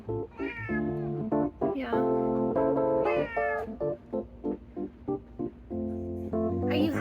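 A house cat meows repeatedly and close up, a run of short, chatty, varied calls with brief pauses between them, and one quiet word spoken in between.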